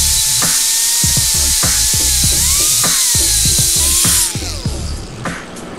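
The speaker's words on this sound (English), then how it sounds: "let's grind this corner" An angle grinder bites into a corner of a van's bodywork during a Bondo repair: a loud, continuous high-pitched grinding whine with a wavering tone for about four seconds, then it cuts off and winds down.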